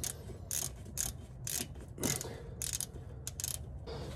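A ratchet drives a gearbox drain plug back in, sounding as a string of sharp, close clicking bursts in an uneven rhythm, fairly quiet with no voices.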